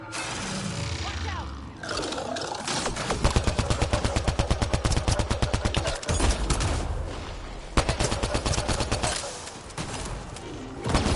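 Rapid pistol gunfire in a video game, long runs of quick evenly spaced shots, loud and close, broken by short pauses and layered over game effects and background noise.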